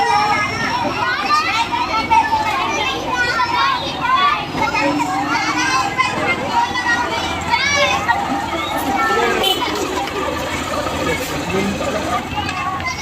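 Crowd of children playing and chattering at a school on Independence Day, a dense, continuous babble of young voices with shouts and squeals, near and loud, with an adult speaking over it.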